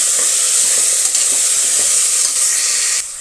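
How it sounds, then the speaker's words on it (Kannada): Tomatoes fry in a hot pan for an egg and spinach biryani, making a loud, even sizzle with soft stirring, until the sound drops off abruptly near the end. "ಟೊಮೆಟೊ ಚೆನ್ನಾಗಿ ಫ್ರೈ ಆಗಬೇಕಾಗತ್ತೆ"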